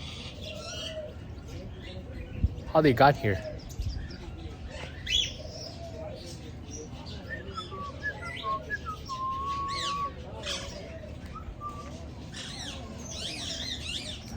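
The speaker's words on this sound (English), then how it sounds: "Here we have some captivated parrots." Captive parrots on Gulhi island, Maldives, squawk and chirp intermittently, with a loud burst of calls early on followed by scattered shorter cries, and a brief bit of talking in between.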